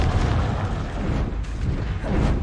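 Confringo fire spell detonating in a Harry Potter-style spellcasting video game, a dense continuous rumbling blast with a heavy low boom sustained at steady loudness, a brief dip, then swelling again.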